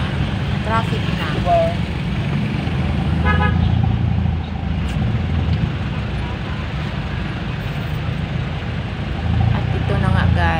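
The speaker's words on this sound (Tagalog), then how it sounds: "At ito na nga, guys, yung traffic." City street traffic with car horns tooting in short bursts over a constant engine rumble, with voices heard beneath the din.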